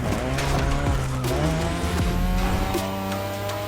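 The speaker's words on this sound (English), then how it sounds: "Like all levels of skids are possible now." Tires squeal and skid in The Crew Motorfest racing game, with engine roar and repeated screeching slides sweeping up and down over several seconds.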